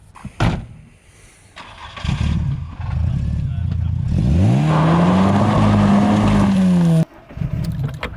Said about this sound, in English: So we are off-roading in Dan's car, essentially.